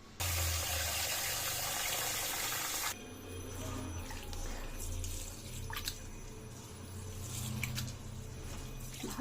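Rice grains are washed in water for a vegetarian biryani, with loud running water first, then close, repeated sloshing and swishing as the grains are rubbed and rinsed.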